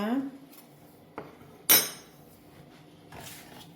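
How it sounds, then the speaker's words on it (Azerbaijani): A utensil clinks and scrapes against a bowl while potato starch is stirred into cold water, giving a few sharp metallic knocks and scrapes separated by quiet gaps. "qarışdırıb tam quru qalmamalıdır, tam belə maye halına gəlməlidir"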